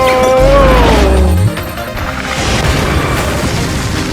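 A loud booming explosion bursts in with a falling tone, then a rumbling, crackling tail fades slowly behind it.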